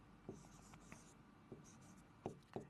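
Chalk or a marker taps and scratches on a board in a few short, separate strokes during a math lesson. It is close but quiet, in a still room, with no voices.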